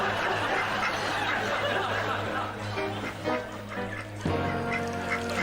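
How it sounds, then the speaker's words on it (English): A duck quacks in a TV comedy scene, several nasal honking calls over a low steady hum, with a sharper burst of quacks toward the end. "Expect a freaking duck."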